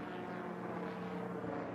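Heron military drone in flight, a steady propeller-engine drone with a constant harmonic hum, loud and unbroken with no voices.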